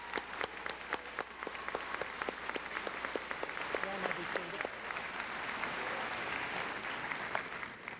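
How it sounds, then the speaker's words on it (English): A graduation audience in a high school ceremony hall breaks into sustained applause, a dense wash of clapping that holds steady for several seconds while a voice speaks faintly underneath. "So let's give them all a round of applause."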